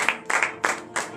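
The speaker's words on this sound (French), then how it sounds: "veuillez vous lever sur vos pieds et donner de vive acclamation l'Éternel" A church congregation at morning prayer claps in four short, rhythmic bursts, fairly close and loud.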